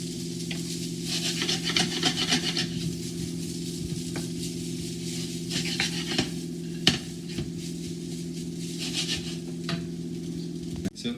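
Fried rice with vegetables being stirred and spread through a pan at home, a steady scraping rub with soft sizzle underneath, repeated strokes in bursts and an occasional sharp clack of the utensil against the pan.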